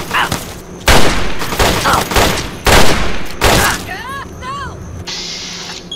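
Rapid gunfire bursts in Fallout 3, loud, close bursts of shots repeating in quick rhythmic volleys, followed by whooshing, chirping energy-like effects and a short mechanical hum at the end.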